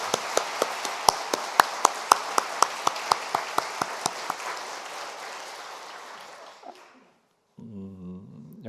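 Applause from a church congregation, strong at first with sharp, regular claps standing out, then thinning and fading away, followed after a short silence by a faint low hum.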